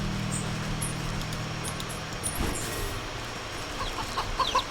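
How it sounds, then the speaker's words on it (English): Chickens cluck in the farmyard of the video game Wytchwood, short scattered clucks and chirps over a steady ambient game bed, with a low hum fading partway through. "Oh yeah, and I can interact with the chickens."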